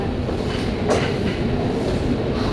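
Steady rumble of a passing train, with rolling rail and carriage noise filling the whole stretch at a fairly even, moderately loud level and no voices.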